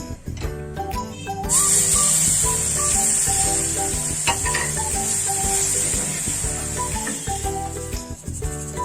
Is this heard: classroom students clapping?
no